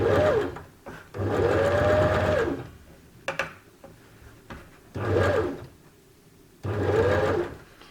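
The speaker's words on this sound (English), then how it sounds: "I'm going to start heading down the side seam 1 centimetre away from the edge" A sewing machine stitches the side seam of a fabric face mask in three or four loud, close bursts of rapid whirring, separated by short pauses with faint handling clicks and no speech.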